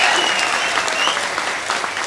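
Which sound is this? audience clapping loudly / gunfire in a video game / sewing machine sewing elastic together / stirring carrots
audience clapping loudly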